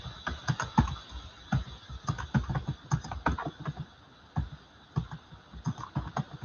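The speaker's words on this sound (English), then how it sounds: "just typing out the list for Natalia for the first time" Someone types on a computer keyboard during a live chat, producing quick irregular bursts of clicking keys separated by short pauses, close and clear with no talking.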